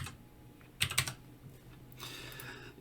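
Brief burst of keystrokes on a computer keyboard while naming a track in recording software, a few quick clicks near the start, then a second softer run of typing, close and quiet with no talking.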